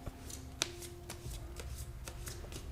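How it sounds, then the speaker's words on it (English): Tarot cards from a Light Seer deck shuffled by hand, a soft steady riffling and sliding of card stock with a few sharper snaps, close and fairly quiet, with no talking. "Let's start shuffling."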